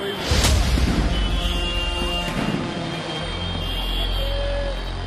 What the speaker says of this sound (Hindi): ये धमाकों की आवाज बारात के दौरान होने वाली आतिशबाजी की नहीं, बल्कि बारातियों पर फेंके जा रहे देसी बमों की है।